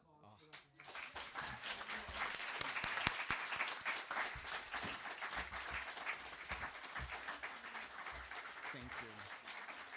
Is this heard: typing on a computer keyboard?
no